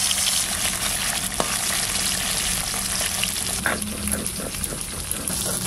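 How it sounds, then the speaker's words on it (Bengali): Fish from the Damodar river frying in oil in a wok, a dense continuous sizzle close up throughout, with occasional scraping and stirring sounds. "দেখেন যে তেল দিছি সেই তেলই কড়াইতে ধরা রয়েছে। তাহলে মাছটা ভাজলাম।"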